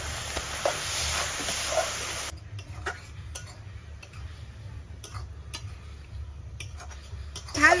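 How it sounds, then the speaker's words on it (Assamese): Carrot and coconut frying in a pan for a pitha filling, with a steady near sizzle at first, then quieter stretches broken by light clicks and scrapes of stirring. "ভালকৈ একদম ভাজি লৈছো"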